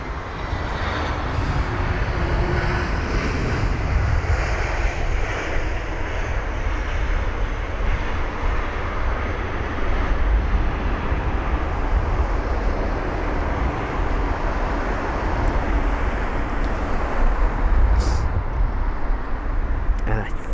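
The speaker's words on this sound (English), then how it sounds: "Engine number 2 starting for one of the aircrafts to my right as well" An airliner engine spools up at London Heathrow, a steady broadband roar and whine sustained at moderate distance for about twenty seconds amid continuous airport background noise.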